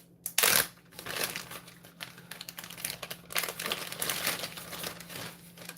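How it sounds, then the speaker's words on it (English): A plastic bag crinkles in a kitchen as cheese is packed away, with a loud rustle at the start followed by steady crackling handling close by. "let me get a plastic bag"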